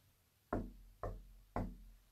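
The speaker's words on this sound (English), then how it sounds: "And again, I'm going to knock." Three slow, evenly spaced knocks on a hard surface ring out about half a second apart, close and fairly quiet in an otherwise silent room during a spirit communication session.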